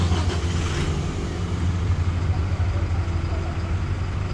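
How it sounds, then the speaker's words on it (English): A 2023 Toyota Hilux engine running after start-up, a steady low idling rumble with a constant hum, close by and fairly loud. "So now start engine."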